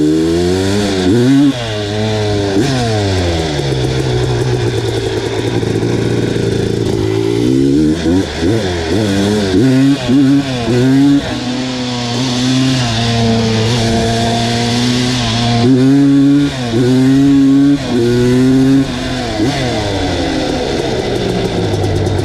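Honda 250R quad engine with a re-bored cylinder, ridden hard on sand dunes at Little Sahara, loud and close, revving up and down in repeated surges with rising and falling pitch and no speech.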